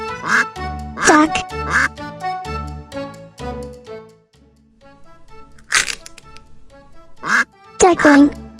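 A duck quacks in several bursts among a children's nursery-style recording, with bright, layered backing music and a spoken voice naming animals around it.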